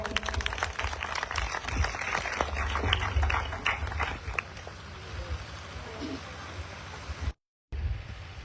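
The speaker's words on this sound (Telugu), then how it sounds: "చప్పట్లు కొడదాం" An audience at a church gathering claps in a dense, steady burst for about four seconds, then the clapping dies away to a quieter room.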